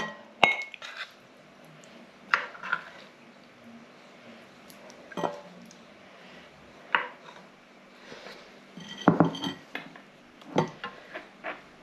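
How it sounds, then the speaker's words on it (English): Greek lamb stew is ladled from a pot into a bowl, with irregular scattered clinks and scrapes of a utensil against the pot and bowl, close and intermittent, no talk. "So I'm just going to get this into the bowl."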